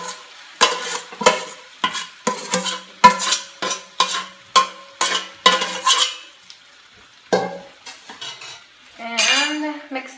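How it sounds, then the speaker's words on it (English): Young bamboo shoots go into a cooking soup and are stirred in a metal pot, giving a run of loud, rhythmic scraping clinks of the utensil against the pot, followed by softer sizzling. "and then we're going to add the bamboo."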